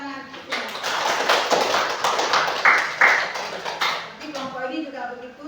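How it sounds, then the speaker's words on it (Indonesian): Pupils in a classroom break into quick, uneven applause that rises and fades over a few seconds, with children's voices and chatter mixed in around it. "Kasih tepuk tangan."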